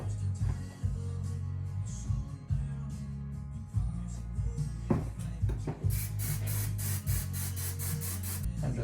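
Short bursts of aerosol spray hiss close by as fine paint is misted over a model railroad tree, with handling noises between bursts and a longer sustained spray near the end.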